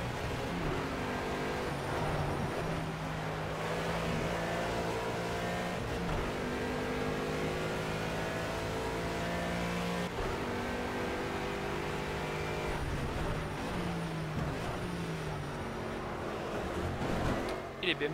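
Race car engines in the video game Project CARS, with other cars running behind: a steady, loud engine drone that rises and shifts through the gears, running throughout alongside someone talking in French.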